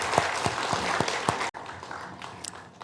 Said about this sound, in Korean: 우리 먼저 하나님께 영광의 힘찬 박수 올려드리겠습니다.